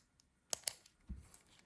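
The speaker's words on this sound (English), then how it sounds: "It's a clicky pen and it works." A 3D printed clicky pen is clicked, giving two sharp close clicks in quick succession, followed by a soft duller knock, all faint against near silence.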